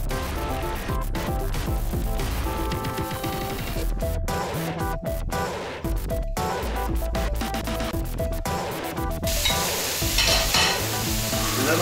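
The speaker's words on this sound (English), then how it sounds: "Put all my onions going in there. And I'm just gonna stir. I allow this to fry for 3 minutes." Onions and green pepper sizzle loudly in hot oil in a pan while being stirred, with scraping spoon strokes over the steady frying hiss, close up and without talk.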